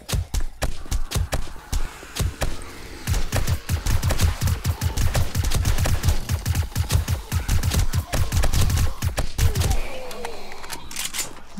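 A turret in the video game 7 Days to Die fires rapid bursts of loud, sharp automatic shots in long, dense rhythmic volleys, briefly pausing and then ending near the close, with a voice speaking faintly underneath.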